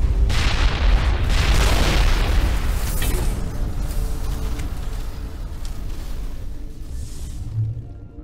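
A thunderous explosion detonates in Mass Effect, opening with a heavy boom and a long rumbling roar that slowly fades toward silence.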